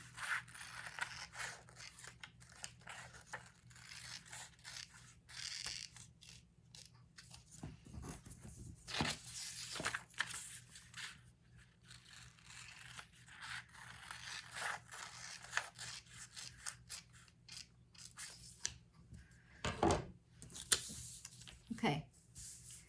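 Scissors slicing a paper sewing pattern piece for a slash-and-spread alteration, a run of soft close snips and crisp paper rustles, with a person talking now and then.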